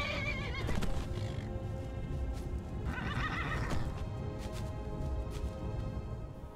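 A wild red horse in the video game Skyrim whinnying loudly nearby, with snorts and a few hoof clops over a low, steady background, no talk.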